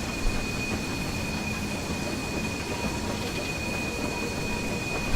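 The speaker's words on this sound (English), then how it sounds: "listen to the flange squeal from the engine" A train engine on the North Yorkshire Moors Railway rolls past with steady wheel and rail noise, a thin high flange squeal running through it, loud and close with no talking.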